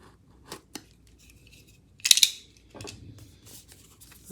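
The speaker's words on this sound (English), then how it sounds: "Cut through the box a little bit." Scissors or a blade cutting through a cardboard box, heard as a few faint snips and rustles, then a short loud burst of slicing and tearing, followed by softer scraping and handling noises.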